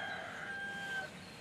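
A rooster crows once, a faint, distant, drawn-out call over low background noise.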